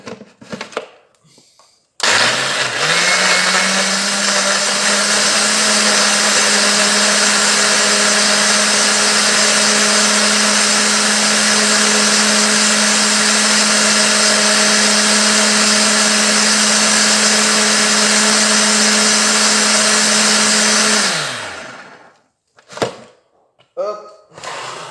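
Loud electric power mixer whirs steadily for about twenty seconds while blending a homemade boilie mix for carp bait, starting and stopping abruptly with a constant motor drone.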